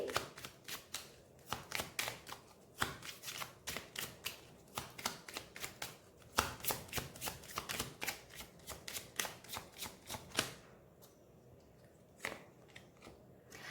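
Tarot cards shuffled and drawn at a reading, giving a close series of crisp, rapid flicking and riffling snaps in bursts that thin out into a few sparse taps near the end, with no speech.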